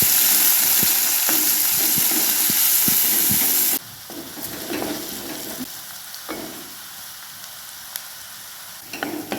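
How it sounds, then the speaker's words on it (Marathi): Onion fries in a pan until reddish, with a loud, steady sizzle that drops suddenly partway through to a quieter crackle broken by scraping stirs and soft clinks. "कांदा सुद्धा लालसर भाजून घ्यायचा आहे।"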